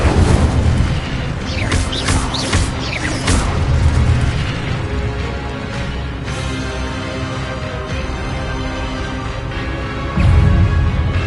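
Incendio fire spell cast in the Hogwarts Legacy video game, loud layered bursts and booming magical impacts over a continuous rumbling game soundscape, no talk.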